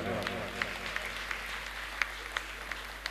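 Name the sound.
audience applause at book publishing event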